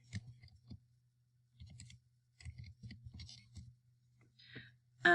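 Keys pressed on a computer keyboard in short bursts of soft clicks separated by pauses, close and quiet against a low steady hum, ending with a sharper click.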